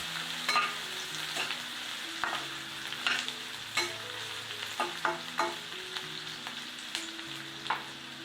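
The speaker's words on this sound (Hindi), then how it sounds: "अब हमें इन अनियंस को थोड़ा सा कुक होने देना है जब तक कि इनका कलर थोड़ा सा चेंज होने लग जाए।" Onions for paneer bhurji frying in a pan, a steady sizzle broken by frequent spatula scrapes and taps as they are stirred, close and clear.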